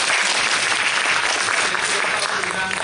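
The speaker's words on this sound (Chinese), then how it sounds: "所以我们是不是再一次掌声欢迎两个都市的非常精彩的个案" An audience at an energy conference applauds, a dense steady burst of clapping from many hands that fills the room for a few seconds.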